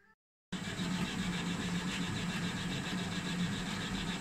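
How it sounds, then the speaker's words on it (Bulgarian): A car windshield wiper motor fitted to a mini lathe starts after a brief silence and then runs with a steady, loud, even mechanical whir that continues to the end. "И тъй, колеги, в момента работя с двигател от чистачки."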